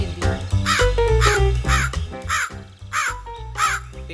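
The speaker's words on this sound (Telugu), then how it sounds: "తన వెంటనే కాలు కాకి కూడా ఇంటి బయటకొచ్చింది." A cartoon crow in an animated moral story caws several times in a row, close and loud, over a backing of music.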